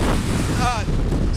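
Strong, erratic wind gusts in Boulder County roar loudly and constantly across the microphone, and a brief voice is partly buried beneath them.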